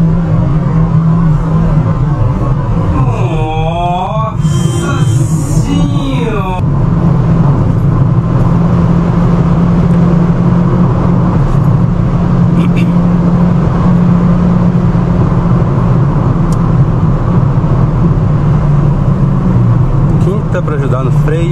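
A car tries to overtake without visibility on a road, its engine droning steadily close by for about twenty seconds, with a brief higher whine and rattle near the start; someone talks over it.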